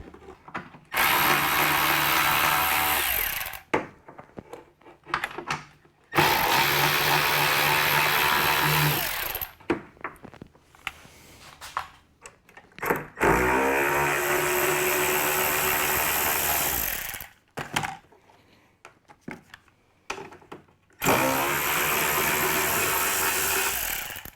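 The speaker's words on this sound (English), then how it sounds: "Which looks like it just has some self-tapping screws up at the top. So let's get those out first." Bursts of a power tool backing self-tapping screws out of a golf cart cup holder on an old Club Car DS, several whirring runs of a few seconds each separated by pauses, close and fairly loud.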